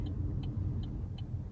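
A Chevrolet Cruze on a test drive gives a steady low road rumble and engine hum from inside the cabin, with a faint ticking repeating at even intervals.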